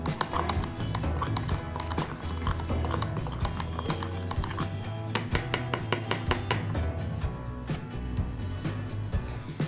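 A spoon mixing Oreo mug cake batter in a mug, clinking and tapping against the sides in a quick, steady rhythm, close and fairly quiet.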